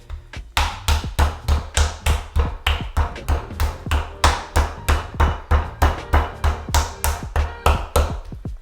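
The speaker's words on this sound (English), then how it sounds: "I'm going to go ahead and pound this out using the flat side of a mallet" A mallet's flat side pounds a 12-ounce boneless ribeye steak flat, about two dozen close, loud, evenly spaced thuds in a quick steady rhythm with no speech.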